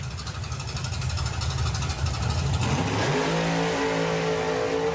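A hot rod launches hard at an NSRA hot rod drag race in Santa Pod, its loud engine roar building from a rumble into a sustained, rising high-revving pull, close and constant throughout.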